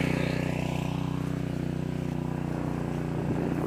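A Harbor Freight Predator 212 engine driving a 2-inch water pump runs at a steady, loud drone with an even throb, close by and without speech.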